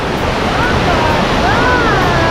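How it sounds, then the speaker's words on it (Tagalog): Bagongbong Falls, a small waterfall in Biliran, gives off a loud, constant rushing roar of falling water that fills the whole moment without a break. "Tingnan nyo ang falls."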